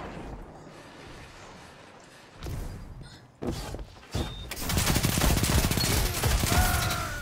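Riskrunner submachine gun from Destiny 2 fired from the hip: quiet ambience gives way to short loud bursts, then a sustained, rapid stream of close automatic fire that runs to the end, with bright electric crackle.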